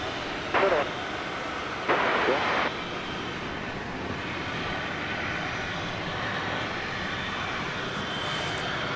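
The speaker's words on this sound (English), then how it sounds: "Here comes American Flight 1868, arriving from Pittsburgh, PA. Clear 737-800." American Airlines Boeing 737-800 arriving at DFW Airport, a steady distant jet engine roar held at low level throughout, with a couple of brief louder noise bursts early on.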